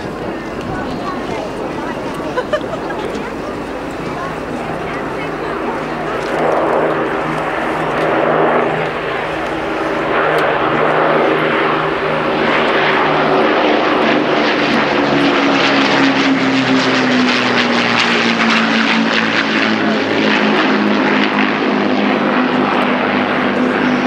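Lancaster bomber propeller aircraft flying at an airshow, a loud, steady multi-engine drone that builds and holds with a slowly shifting pitch, close and dominant throughout, with a voice speaking over it.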